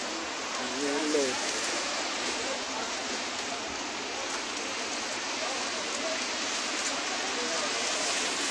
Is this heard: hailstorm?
yes